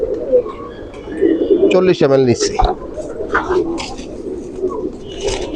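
A pigeon chick being held and fed gives soft cooing sounds close by, mixed with someone talking and some handling noise throughout.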